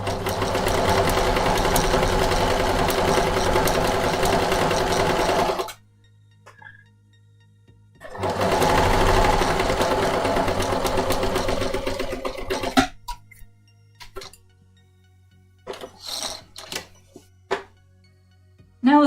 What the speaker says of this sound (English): I've had maintenance on the machine that makes it not quite so rattly as it was